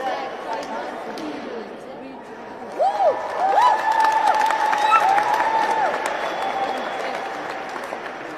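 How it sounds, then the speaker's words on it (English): Crowd of protesters applauding and cheering outdoors at a rally against a finance bill, a sustained wash of clapping with voices calling over it, fairly close. "Let's give him a round of applause for expressing himself."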